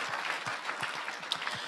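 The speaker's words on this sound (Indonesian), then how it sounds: "Boleh jemaat tepuk tangan buat mereka" A church congregation claps steadily together, a dense wash of applause with no voices on top.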